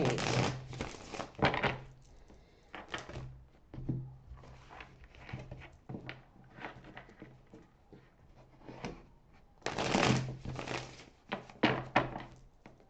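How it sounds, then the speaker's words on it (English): Tarot cards being shuffled, with repeated riffling and papery rustling bursts and occasional soft thumps, close by and with no talking. "one more shuffle, please."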